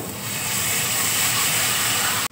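Water poured into a hot pan of coriander and chilli powder, giving a loud, steady steaming hiss that holds evenly for a couple of seconds and then cuts off abruptly.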